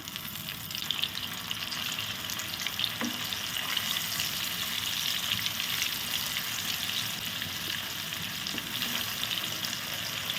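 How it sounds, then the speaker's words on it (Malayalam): Paneer fries in hot sunflower oil with a steady, moderate sizzle and a few faint scrapes, no talking. "ഇതൊന്ന് പൊരിക്കാനിടാം"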